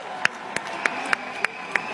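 A protest crowd on Place de la République in Paris claps in unison, sharp evenly spaced beats about three per second over a murmuring background.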